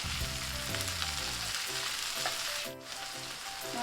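Green capsicum, red capsicum and tomato dropped into a hot pan for chili paneer, crackling and sizzling loudly and steadily up close, with a brief rustle of stirring near the end.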